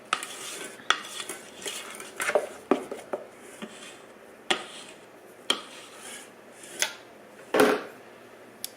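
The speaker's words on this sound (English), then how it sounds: "Just going to scrape the sides of the bowl." A spatula scrapes around a mixing bowl of brownie batter in a home kitchen: soft rubbing punctuated by a series of sharp clinks and knocks against the bowl, close and fairly quiet.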